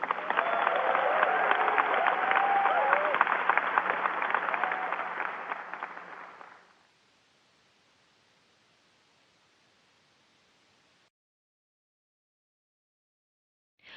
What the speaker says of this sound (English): let's all together give Commander Hatfield one more big cheer